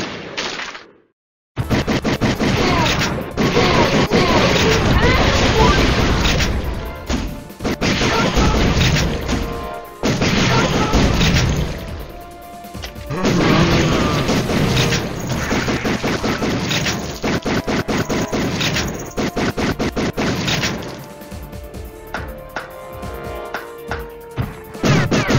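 An obstacle is shot open in The House of the Dead 3, rapid loud automatic gunfire and crashing impacts pounding almost continuously, with a few brief pauses between the long bursts.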